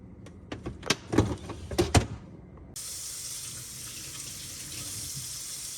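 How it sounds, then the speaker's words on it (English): Potatoes rinsed under a running kitchen tap during vegan meal prep: a few close knocks and clatters in a sink, then a steady, even rush of flowing water to the end. "All right, now the potatoes are washed."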